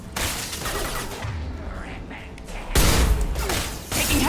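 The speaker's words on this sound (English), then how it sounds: "Taking heavy fire!" Gunfire in the Mass Effect 2 video game, a dense rattle of shots with heavy thuds that swells loudly near the end, mixed with voices talking.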